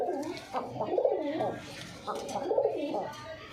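Wild jalali pigeons coo close by in repeated rounds of soft, throaty, rising and falling calls, steady and clear with nothing else heard over them.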